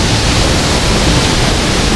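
Babak Pelangi waterfall in a forest setting, a loud close steady rush of falling water filling the whole clip as an unbroken roar.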